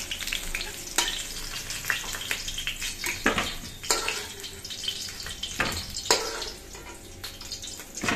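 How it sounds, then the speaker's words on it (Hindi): Potatoes frying in oil, cooked before a Bengali-style fish curry: a bright close sizzle with repeated stirring scrapes and clattering of the pan every second or so, no voices. "तो आलू भी अच्छे से जो है फ्राई हो गया है"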